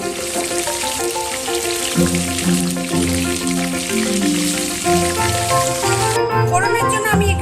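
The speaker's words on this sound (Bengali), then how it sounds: "বাকি মাছগুলো এইভাবে ভেজে আমি তুলে নেব।" Chitol fish pieces frying in hot oil, a steady sizzle running throughout beneath background music, with no talking.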